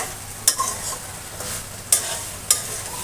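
Spice paste sautéed in oil for jackfruit curry cooked with chicken, a soft continuous sizzle with three crisp stirring scrapes of a spatula in the pan, spaced apart.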